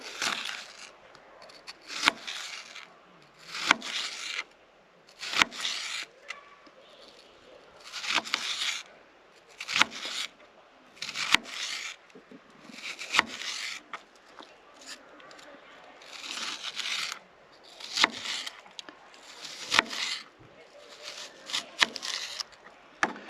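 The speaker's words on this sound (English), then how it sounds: "So then I'm just cutting the onion in half, this way. And then we're just going to cut it into these little strips." A knife cuts a halved onion into strips on a board, giving a series of crisp chops and slices at an uneven rhythm, close and fairly clear.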